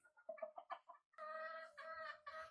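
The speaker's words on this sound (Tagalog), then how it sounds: "ito ang ating Brownie Kelso brood stag" A Brownie Kelso gamefowl brood stag gives a quick run of short clucks, then three longer, drawn-out calls, fairly close but quiet.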